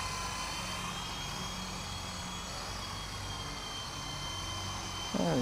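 A WLtoys V912 RC helicopter in flight gives a steady, droning rotor-and-motor whine throughout at a constant level, with a sharper burst of noise near the end.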